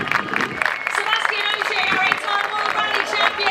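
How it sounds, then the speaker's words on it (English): Audience applause for rally driver Adrian Formeau in third place at the WRC Acropolis Rally of Greece closing ceremony, a dense, steady wash of clapping and crowd noise with a voice talking over it. "Round of applause, everyone, for Adrian Formeau in third position"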